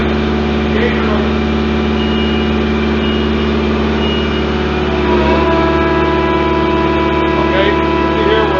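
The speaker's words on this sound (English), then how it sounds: "Okay, operator, rev it all the way up. Back on the unit. Engage the motor." A Prinoth tracked vehicle's engine runs at high revs with its hydraulic motor engaged, giving a steady, loud mechanical drone with a slight lift in pitch partway through.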